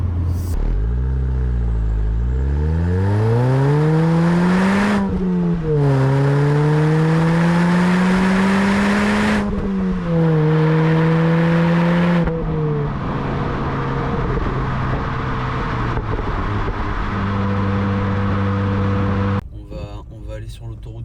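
A supercharged Mini JCW R53 accelerates hard at night, its engine note climbing repeatedly and dropping at each of three gear changes, then holding a steadier cruising drone before fading near the end.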